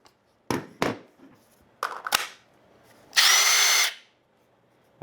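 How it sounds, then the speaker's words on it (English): Cordless impact driver powered by an aftermarket CEENR battery, triggered in several short bursts of whirring and rattling, followed by one longer, louder sustained run of almost a second, close up with no talking. "Got our impact driver."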